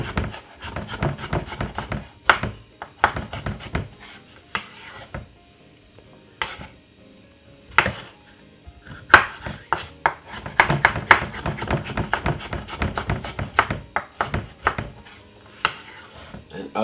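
Knife chopping seeded cucumber into very small pieces on a cutting board, a run of quick close taps in irregular bursts with short pauses, no talk.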